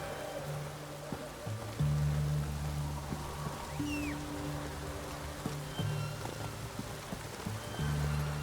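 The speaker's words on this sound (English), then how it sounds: "Looks like rain." Steady rain hiss in the video game The Witcher 3 over a quiet background, with faint low tonal hums drifting in and out underneath.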